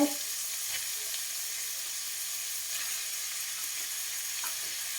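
Chopped vegetables for spring roll filling frying in a hot pan, a steady, even sizzle that holds at close range throughout with only faint occasional knocks.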